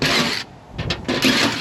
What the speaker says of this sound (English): I push it to the side, I pull the trigger, and I'm picking the drill up